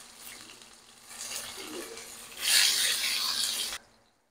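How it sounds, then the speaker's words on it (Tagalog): Onions hit a hot pan and begin sizzling, the hiss swelling loudly after a quieter start, then cutting off abruptly near the end. "Ay, magigisa na ako. Mainit na ang aking kawali. Sibuyas, sabay-sabay na yan."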